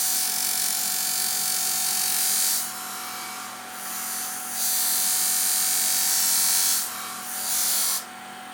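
Shears being sharpened, the burr fine-tuned with steady scraping strokes of abrasive on metal, a continuous hissing rasp broken by a few short pauses.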